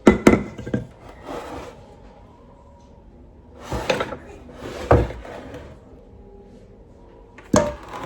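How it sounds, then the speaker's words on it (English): A cake pan knocks against the oven rack and the oven door thumps shut in a home kitchen, a few separate clunks and slides with quiet gaps between them. "Into the oven it goes"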